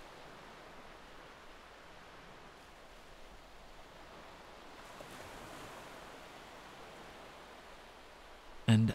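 Ocean waves washing onto a beach, a soft continuous surf hiss with gentle swells, faint and steady with a light breeze.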